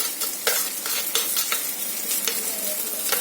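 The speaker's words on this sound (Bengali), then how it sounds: "মশলাটা ভালো করে কষিয়ে নেব।" Masala paste with turmeric is stir-fried in a pan, a continuous bright sizzle with rhythmic scraping strokes of a spatula, close and without talk.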